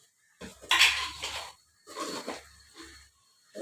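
Egg noodles being mixed in a pan with sauce and chicken masala, giving bursts of metal clatter and scraping in three separate rounds with short pauses between, fairly close.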